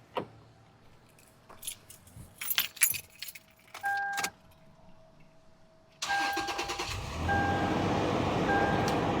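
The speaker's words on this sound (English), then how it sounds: "Let's go ahead and start it up and see if it makes a difference." Keys jingle and rattle in the ignition before a Toyota car engine cranks and starts after a throttle body cleaning, then settles into a loud, steady high idle that grows slightly louder and holds.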